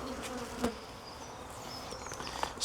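Steady insect buzzing fills the clip, a dense close hum with a few sharper buzzes passing near, no voices.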